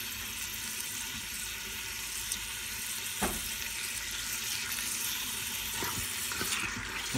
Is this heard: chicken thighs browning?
yes